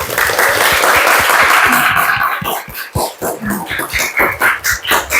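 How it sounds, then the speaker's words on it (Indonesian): Listeners applaud after a student presentation at Universitas Islam Negeri Alauddin Makassar. A dense burst of clapping fills the room at first, then thins into scattered, separate claps toward the end. "kita kasih tepuk tangan dulu"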